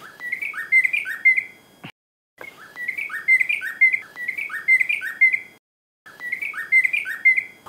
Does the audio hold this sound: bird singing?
yes